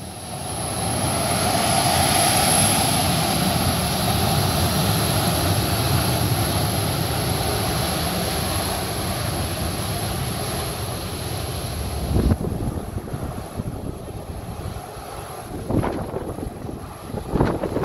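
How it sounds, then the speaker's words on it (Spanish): Colombian Air Force Boeing 737-400 jet engines roar loudly and steadily as the takeoff begins, the sound slowly easing before fading into rumbling wind noise toward the end. "Un saludo del comandante de esta aeronave y comenzó maniobra de despegue."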